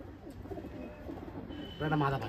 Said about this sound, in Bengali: দাদার ঘরে এই একটা রেগদার পায়রা